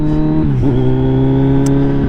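A Kawasaki Z900 motorcycle with a Scorpion full-system exhaust runs loud and close, its deep steady drone dipping briefly as the revs shift, then holding an even, throaty tone.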